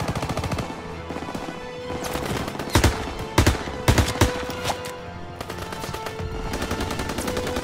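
Rapid bursts of gunfire from the World War II shooter Call of Duty WWII, loud sustained automatic fire broken by sharper, heavier shots near the middle, with no talk over it.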